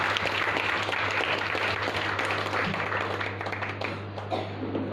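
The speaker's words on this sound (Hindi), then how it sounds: "आइए प्रभु के लिए ताली बजाएंगे।" Applause from a church congregation during a Sunday worship service fills the whole span, a steady dense wash of many hands clapping at moderate volume, holding evenly before thinning slightly near the end.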